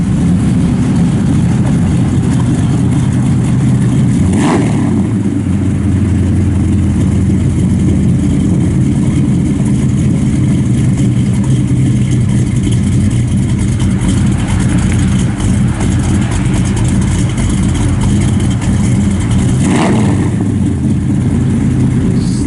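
A 1956 Chevrolet Bel Air two-door hardtop runs loud and close, its engine rumbling steadily at idle with a couple of brief revs rising out of the drone.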